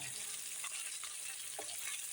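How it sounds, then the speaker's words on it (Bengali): Boroli fish frying in a pan, a faint, even hiss of hot oil with a few soft spatters and light movement as pieces are turned. "ওই মাছটা এখন উল্টিয়ে দিচ্ছি দেখো"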